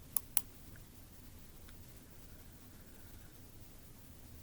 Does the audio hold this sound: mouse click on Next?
yes